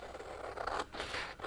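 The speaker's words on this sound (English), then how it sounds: "Let's just cut that out and see how it looks." Scissors snip through a paper journaling card in a short, close, quiet pass, giving a few crisp scraping cuts with brief pauses between strokes.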